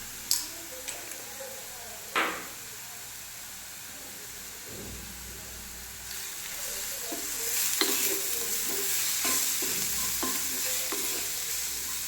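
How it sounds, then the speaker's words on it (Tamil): Kashmiri chilli, turmeric and tomato stirred and sizzling in a kadai for paneer, a steady frying hiss with scattered spoon clicks and scrapes that grows busier and louder partway through. "இந்த மாதிரி நல்லா வதக்கினதுக்கப்புறம்"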